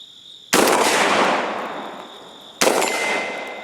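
A GForce GF25 shotgun firing double-aught buckshot shells from a 20-round drum: two loud, sharp outdoor blasts about two seconds apart, each trailing off in a long rolling echo.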